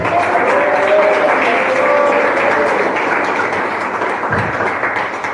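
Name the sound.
congregation clapping hands in church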